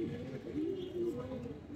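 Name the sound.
female grizzle pigeon cooing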